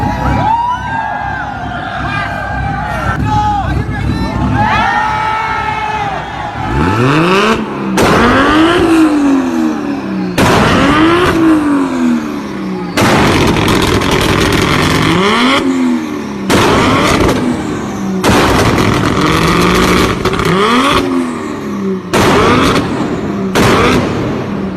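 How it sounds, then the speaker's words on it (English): A Toyota Supra's engine revs hard in repeated loud bursts, with sharp bangs and pops as it destroys its own exhaust, and crowd noise fills the gaps between revs. "a Supra going absolutely crazy and even destroying its own exhaust"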